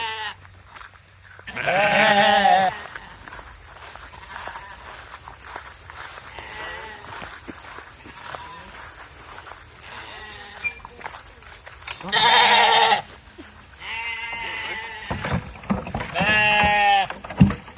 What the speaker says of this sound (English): the other sheep decided to follow us